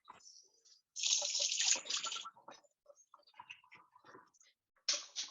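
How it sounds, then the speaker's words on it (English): Water running from a tap, picked up by an open microphone during an online grant meeting, with a loud broadband rush that swells and fades in bursts alongside faint clicks. "Somebody's running water and needs to turn their mic off."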